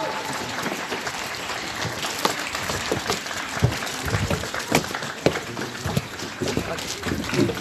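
An audience gives a big round of applause to a band at a Malmö concert in bad weather: dense, steady clapping with sharper individual claps, sustained throughout.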